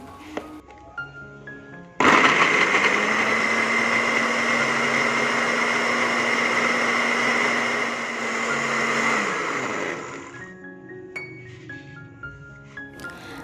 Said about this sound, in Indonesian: Bawang merah dan bawang putihnya ini saya blender terlebih dahulu.